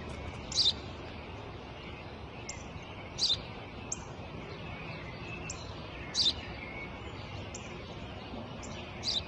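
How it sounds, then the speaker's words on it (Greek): Repeated sharp chirps of a house sparrow, bright and close, coming in short bursts every second or two over a faint background hiss. "Ένα σπουργίτη."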